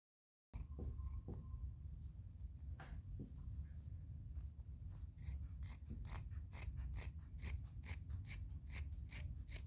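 Scissors snip through crochet yarn close up, a run of sharp, crisp clicks and cuts that comes quicker toward the end, in a quiet room.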